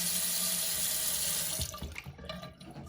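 Cold tap water pours steadily into a sink in a home, a continuous close hiss that breaks into choppier splashing and trickles as the flow changes near the end.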